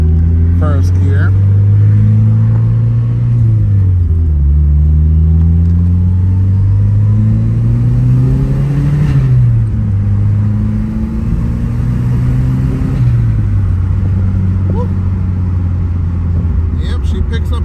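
A 1989 Chrysler Conquest car pulls through its gears under turbo boost, the loud interior engine drone rising and dropping with each shift over nearly twenty seconds, with a voice talking over it.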